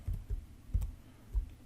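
Calculator keys are pressed one after another in four soft, dull taps spread unevenly across a short, quiet stretch while an equation is typed.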